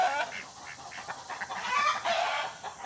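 An upset hen clucks in agitated, rhythmic bursts from a garage nesting spot on a feed bag, close and fairly loud, rising into longer squawking notes.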